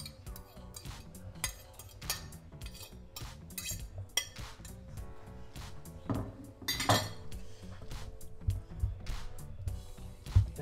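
Chorba soup is stirred in a pot, with a spoon clinking and scraping against the metal in irregular taps and rattles, close and fairly quiet, and a few sharper knocks toward the end.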